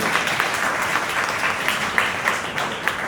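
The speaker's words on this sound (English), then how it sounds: "So clap for yourself." Audience applause for elocution contest participants at a school literary association prize ceremony, a dense, steady round of clapping from a crowd lasting throughout, fairly loud with no one speaking.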